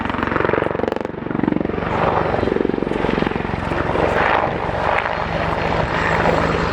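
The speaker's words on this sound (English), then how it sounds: "show the capability to fly upside down with this helicopter" An Apache helicopter roars close by during a flying display at RIAT 2013, with a heavy, pulsing rotor chop and whining engine, the sound swelling and fading as it maneuvers, including flying upside down.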